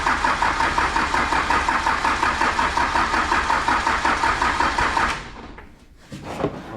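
Off-road rollback truck engine running at a steady, loud idle with an even pulsing rhythm, then cutting out abruptly and sputtering briefly as it tries to catch again.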